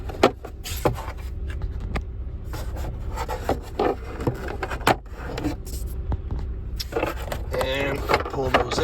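Plastic tabs pop out beside the cabin air filter housing inside a Honda Civic, giving several short close clicks and scraping rubs with someone talking between them.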